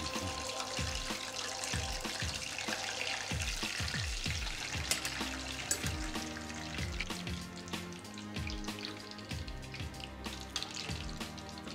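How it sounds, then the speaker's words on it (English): Soft-shell crab battered and dropped into a deep fryer, bubbling oil crackling steadily throughout amid busy restaurant-kitchen clatter, with no talking. "And into the fryer."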